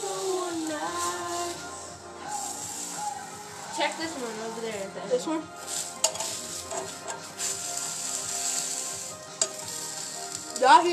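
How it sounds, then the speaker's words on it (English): Breakfast food sizzles steadily in a hot frying pan, with occasional stirring and clinks of cookware while people talk over it. "That means that's the sound of sizzling."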